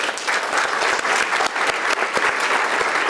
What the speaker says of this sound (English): je crois qu'il mérite nos applaudissements